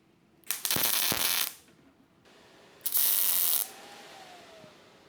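A welder lays tack welds on plate 9 of a steel front bumper for a 4th-gen Toyota 4Runner in two short, harsh crackling bursts about a second each, separated by a quiet pause.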